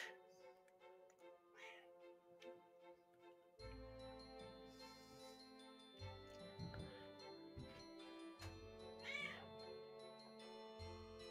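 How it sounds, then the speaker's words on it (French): A pet cat meows a few times over cheerful Christmas game music with chimes and tinkling bells, the calls mid-distance and partly masked by the steady soundtrack. "Il y a mon chat qui vient de rentrer"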